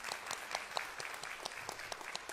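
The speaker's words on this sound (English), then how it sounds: "Let's give Paula a round of applause for everything she's contributed." Applause from a panel discussion audience for a contributor, even continuous clapping from a moderate crowd, somewhat distant and soft, with no talking.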